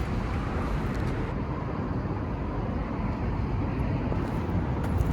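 Hinomoto CX 180 mini tractor with a three-cylinder diesel engine, also sold as a Kubota GB 180, driving in with a steady low engine rumble and some wind noise throughout, fairly loud and without talk.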